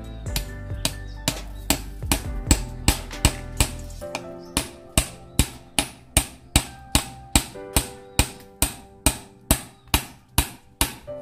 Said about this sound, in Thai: เราจะทำการตอกลงไปแบบ นี้เลยครับ